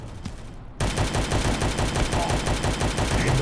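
An Incinerator weapon in the Guns of Boom shooter game fires in a sustained burst, a dense loud roaring rush that starts abruptly and runs unbroken to the end.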